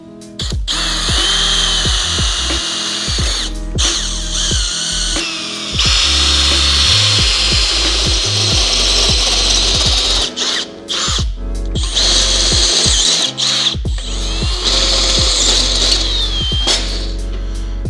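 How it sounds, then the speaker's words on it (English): A power drill bores holes in metal mounting plates for a supercharged V8 mini box truck build, with loud whining runs of the motor that repeatedly stop, start and change pitch as it bites into the plate. "Drill some holes in these, get them mounted up to the engine"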